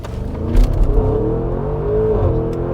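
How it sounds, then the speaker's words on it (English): Audi SQ7 luxury SUV with a twin-turbo engine and Stage 1+ tune accelerating hard, a deep steady engine drone rising in pitch, heard from inside the cabin. "Until the twin turbos kick in."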